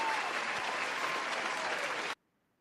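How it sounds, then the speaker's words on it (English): A dense burst of crowd applause on a boxing talk show, loud and sustained for about two seconds before cutting off abruptly into silence. "let me get your round of applause"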